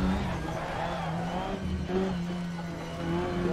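A Ginetta G40 race car in the Assetto Corsa sim slides in oversteer at Algarve International Circuit, with a steady engine drone and brief tire-scrub squeal, moderately quiet.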